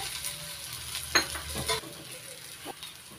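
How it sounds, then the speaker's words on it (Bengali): A spoon stirs and scrapes spiced aloo paratha filling with amchur powder frying in a pan, giving a few distinct clinking strokes over a soft, continuous sizzle, close and fairly quiet. "ভালো করে মিশিয়ে নিচ্ছি"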